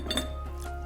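Glasses clink together in a quick toast over a meal of chicken with mango and cilantro, a couple of bright close chimes followed by a soft ringing tail with faint room noise.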